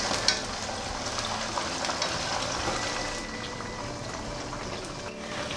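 Chicken sizzles and crackles steadily in hot frying oil, a continuous hissing spatter with occasional small pops.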